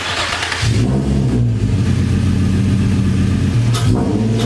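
An Infiniti G35 coupe with a newly loud, straight-through exhaust revs hard up close, its deep engine note rising and settling across several throttle blips with a raspy, booming exhaust roar.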